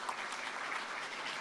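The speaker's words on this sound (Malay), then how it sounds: "Kita bagi tepukan yang meriah." Audience applause at the launch ceremony of a junior AI and robotics educational club, a brief, even burst of clapping from a crowd in a hall.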